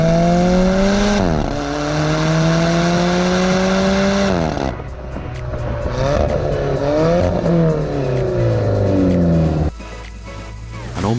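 Alfa Romeo 4C sports car accelerating hard, its engine note climbing through several gears with brief pauses at each shift, loud and close, with no talk.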